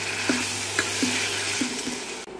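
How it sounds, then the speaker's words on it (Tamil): Dried fish being stirred into a curry in a pan, giving a steady sizzle with a few soft spoon scrapes and taps at a regular pace, close and moderately loud, with no talking. "கருவாடை அது கூட சேர்த்து மிக்ஸ் பண்ணணும்."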